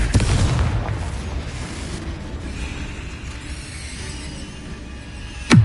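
Spell blasts from Confringo and Bombarda in the Hogwarts Legacy video game: a loud booming burst at the start, a rumbling low wash that fades, and another sharp explosive hit at the very end.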